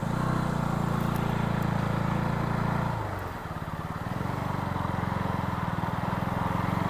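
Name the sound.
Thar vehicle passing on a forest road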